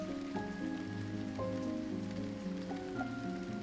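Drizzling rain falls on a lawn, a soft continuous patter of drops on the surface, faint and even, heard alone.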